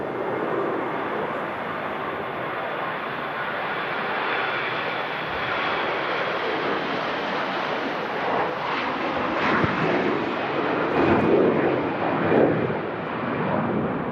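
Aircraft engines roar continuously at Manchester Airport during Storm Darragh's strong winds, a broad sustained rumble with gusting wind noise that swells louder toward the end.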